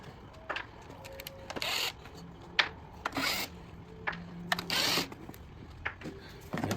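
Four 10mm seat bolts being removed from a Kawasaki KLX300R dirt bike: a sequence of short, close metallic clicks, ratcheting bursts and rattling handling noises with brief pauses between them, no talking.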